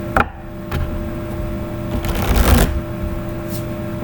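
Close shuffling of a deck of Oracle of Visions cards, with a sharp riffle at the start, a brief flutter, then a longer burst of rapid card flicks near the middle over a faint steady hum, with no voice.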